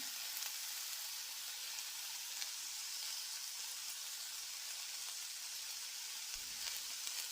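Tomatoes with salt fry in oil, giving a steady, soft sizzle that stays even and fairly faint throughout, without voices.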